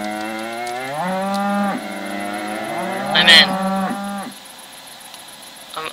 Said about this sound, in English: They all moo at once at me.